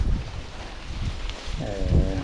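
Strong, gusty wind ahead of a typhoon in Hong Kong, whipping through a narrow alley beside a home, buffets the microphone with a steady low roar that swells toward the end, where a brief tonal hum also rises.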